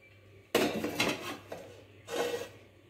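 Metal lid lifted off a cooking pot of boiled grapes, a loud clatter followed by a few lighter scrapes and clinks of metal against the rim, close and without talk.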